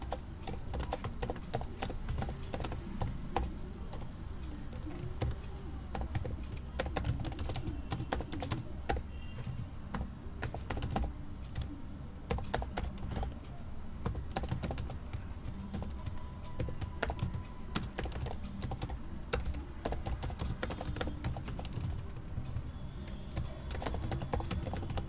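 Fast, steady typing of Python code on a computer keyboard: dense, rapid key clicks close up, continuing without pause for the whole stretch, with no voice over them.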